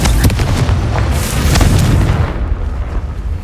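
A Confringo fire spell bursts in the Hogwarts Legacy video game as a loud, booming explosion with a heavy low rumble that fills the moment, then fades quickly into a dull tail.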